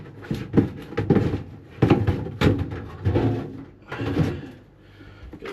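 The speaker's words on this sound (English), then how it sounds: "Get the big drawers open there now" Freezer drawers are pulled open in a series of dull thunks, slides and rattles, several bursts spaced irregularly and heard close up without speech.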